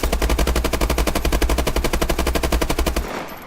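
Bal-27 rifle in Call of Duty Advanced Warfare fires one loud sustained automatic burst of rapid, evenly spaced shots for about three seconds, then cuts off, with no talk.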